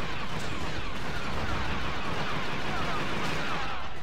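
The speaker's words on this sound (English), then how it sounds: "This sounds like the regular pistol noise." Rapid, continuous fire from an ACP repeater gun in the video game Star Wars Battlefront 2, a dense, unbroken roar of shots with no pauses across the whole stretch.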